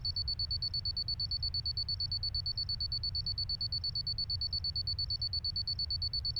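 An alarm clock rings before dawn in a holiday house, a rapid, evenly pulsing electronic beep that repeats steadily and loudly with nothing else over it.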